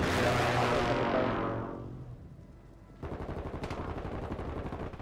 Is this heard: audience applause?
no